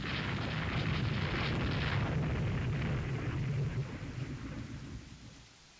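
Rain and thunder in the naval strategy game Rule the Waves 3, a loud rolling thunder rumble over dense rain hiss that fades gradually toward the end.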